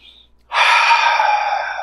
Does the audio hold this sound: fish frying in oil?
no